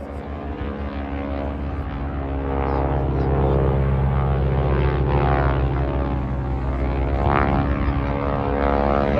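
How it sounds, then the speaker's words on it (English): Stearman biplane with a 450 horsepower engine, its propeller tips running near supersonic, giving a steady loud droning roar that swells slightly as it passes at an airshow. "The Stearman's not your average Stearman engine, that's 450 horsepower"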